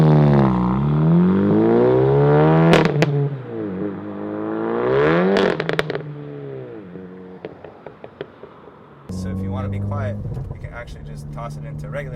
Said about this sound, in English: it makes those pops and crackles only in sport mode